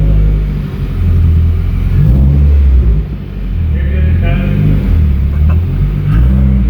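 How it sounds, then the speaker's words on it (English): A Subaru WRX rumbles loudly from inside the car as it pulls away on a test drive, with the engine note rising and falling steadily while someone talks over it. "we're gonna go ahead and pull this thing out and go for a little test drive"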